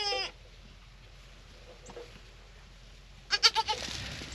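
Newborn goats bleat outdoors in ice and snow during a Texas freeze: one short call at the start, then a quiet stretch before a rapid run of several close, loud bleats.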